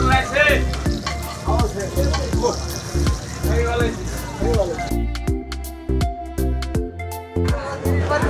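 Hilsa fish fries in a pan at a riverside eatery, with a dense sizzle that swells and fades under ongoing voices, then thins to crackling spatters and clinks of utensils near the end.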